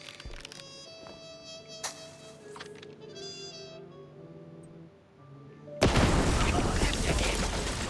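Firecrackers burst inside a wooden attic in the video game MOUSE: P.I. For Hire. Quiet tonal music and small effects give way to a sudden, loud, crackling barrage that continues to the end.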